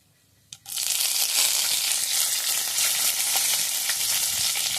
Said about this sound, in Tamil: கடாயில் வந்து பட்டை, சோம்பு, ஏலக்காய், லவங்கம், பிரிஞ்சி இலை போட்டிருக்கேன்